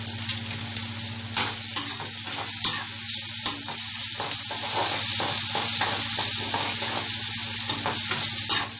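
Onion and ginger sauté for rava kichadi, giving a steady close sizzle with intermittent spoon scrapes and taps as they are stirred, and a faint hum underneath.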